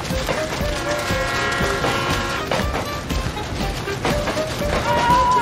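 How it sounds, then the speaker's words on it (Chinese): A train closing in along a jungle railway track, its horn blaring in long sustained blasts over a rising rumble and rattle of wheels, growing louder toward the end. "火车真的来了"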